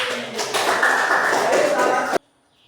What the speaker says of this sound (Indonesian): Oke, tepuk tangan buat Budi.